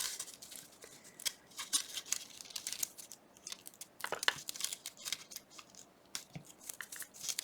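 Scissors cutting collage paper during a craft session: a run of quick, close snips and crisp paper rustles in irregular bursts, with short pauses between cuts.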